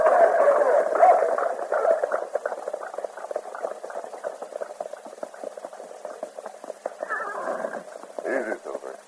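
A horse neighs and whinnies in an old-time Western radio drama, a loud drawn-out call at the start followed by clip-clop hooves and a couple of shorter snorting whinnies near the end.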